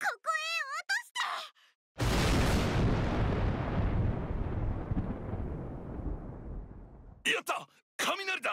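A lightning strike and thunder in Sword Art Online Last Recollection: a sudden loud crack that rolls into a long, deep, slowly fading rumble lasting several seconds, with game voices speaking just before and after.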